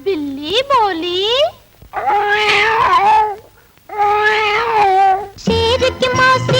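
Cat-like meows and drawn-out caterwauling, probably voiced by a person, from a 1957 Hindi children's film. Four loud, wavering cries rise and fall in pitch and are separated by short pauses, with the last one sounding strained and harsh.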